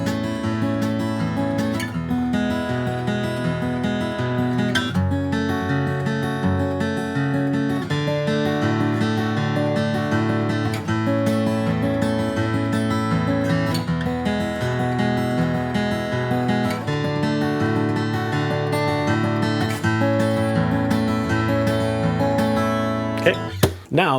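An acoustic guitar strums a steady chord progression for the chorus of a song, played continuously and evenly at a moderate level with clear chord changes throughout.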